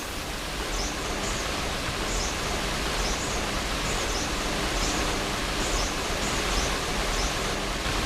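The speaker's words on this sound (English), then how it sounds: "The sound of millions of butterflies fluttering." Millions of overwintering monarch butterflies fluttering in a California grove make a dense, steady hiss like soft rushing water, faint and continuous with occasional distant bird chirps.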